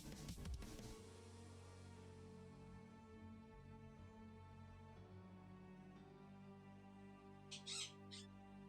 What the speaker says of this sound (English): I don't think the bird gets picked up as much now, but you can still definitely hear it